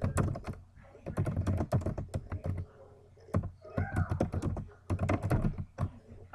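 Fingers type on a computer keyboard in quick, close bursts of clicking keystrokes, broken by short pauses, with faint background noise.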